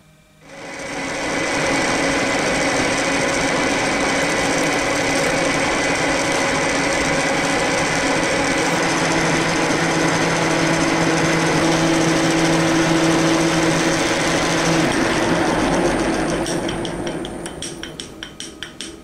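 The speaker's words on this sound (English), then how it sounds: "do the Z-axis in this milling machine" Milling machine drilling starter holes in a backplate for a Bison 4-jaw chuck, a loud continuous whining cut that holds steady for about fifteen seconds, then breaks into chattering ticks as it winds down.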